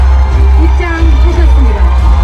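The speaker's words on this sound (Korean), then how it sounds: "많은 지지자 여러분들의 큰 환호와 함께 한동훈 전 국민의힘 대표께서" A large crowd of supporters at a fountain outside the National Assembly cheers loudly and continuously as former People Power Party leader Han Dong-hoon enters, with shouts and whoops rising above a dense roar and voices mixed in.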